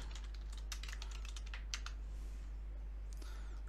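Someone types a password on a computer keyboard, a quick, faint run of clicking keystrokes in a quiet room, followed by a few softer taps.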